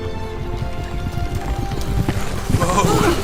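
Horses clip-clopping along in a Chronicles of Narnia audio drama, steady hoof beats under a spoken voice, ending in a whinny.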